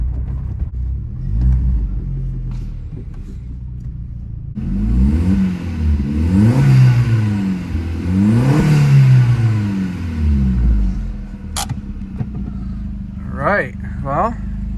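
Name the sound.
lowered Mk4 Jetta 1.8T driving, loud engine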